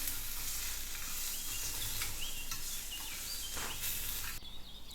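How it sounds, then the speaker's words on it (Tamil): A steady sizzle and scrape of coriander powder, turmeric and salt being stirred while miniature pasta cooks in a tiny pan, heard alone with one brief clink near the end. "மல்லித்தூள், மஞ்சத்தூள், உப்பு, இது எல்லாத்தையும் நல்லா மிக்ஸ் பண்ணிக்கலாம்."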